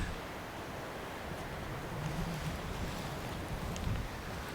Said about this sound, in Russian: Учитывая то, что сейчас очень сильный ветер, на озере гладь, мелкие волны, они не страшны.